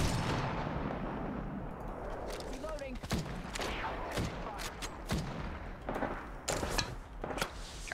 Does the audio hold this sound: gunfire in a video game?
yes